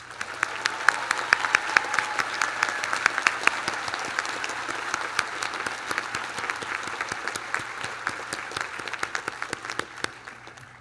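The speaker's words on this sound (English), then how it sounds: "Let us give you a resounding round of applause" A large crowd at a college commencement applauds steadily, dense overlapping claps holding strong for about ten seconds before tapering slightly, with no voices over it.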